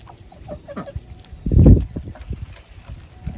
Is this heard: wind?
no